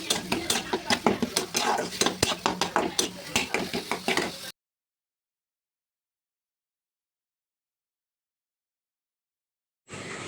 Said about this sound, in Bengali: ভালো করে টেস্ট করে ভালো করে টালতে হবে দিয়ে এটাকে সুন্দর করতে হবে